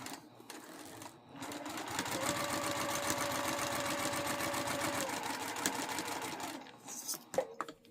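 A sewing machine running steadily as it stitches fabric, a fast even mechanical whir and needle patter for about five seconds, starting and stopping with soft clicks and handling noises.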